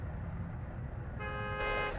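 Car horns honk in a traffic jam in the BeamNG.drive driving game, a sustained tonal blare rising out of a low rumble of engines and road noise, joined by a second, higher horn toward the end, moderately loud.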